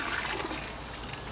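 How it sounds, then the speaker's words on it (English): Water pours steadily into a planting hole dug for a shoe tree seed, a continuous close splashing trickle with no pauses. "You want to put a little water in the hole."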